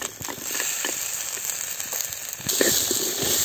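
Small shallots, garlic cloves and grated coconut frying in a pan for fish kulambu, a loud close hiss of oil with light crackle and a few soft stirring knocks.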